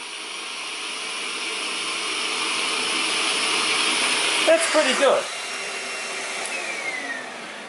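A Henry HVB-160 cordless vacuum cleaner runs with a steady, airy whir throughout, and a short burst of clattering suction comes midway while a person briefly comments over it.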